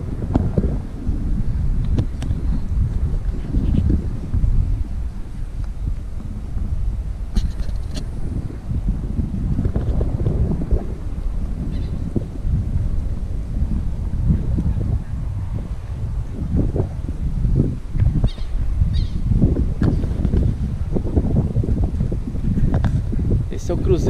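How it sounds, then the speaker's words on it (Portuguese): Strong wind buffets the microphone in an open cemetery, a continuous low roaring rumble with gusty surges, while a person talks over it. "Não sei se o vento tá atrapalhando, que é um lugar bem aberto, né?"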